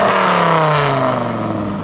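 The V10 engine of a Dodge Viper, parked in a forest, is revved loudly and close by. Its deep, harmonic exhaust note starts high and sinks steadily as the revs fall away toward idle.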